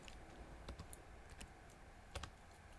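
Quick bursts of keystrokes on a computer keyboard as a short math answer is entered, soft and close with brief pauses between clusters of taps, no voices.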